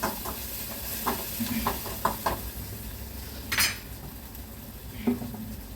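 Green chili masala with turmeric is stir-fried in a pan in a cloud kitchen, with a soft sizzle under repeated metal spoon scrapes and clinks against the pan, close by and irregular.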